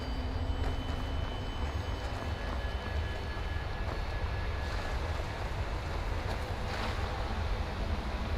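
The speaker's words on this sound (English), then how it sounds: "This is a waterfall." A waterfall in the video game Skyrim, a steady broadband rushing roar of falling water that holds at an even, fairly loud level throughout with no voices.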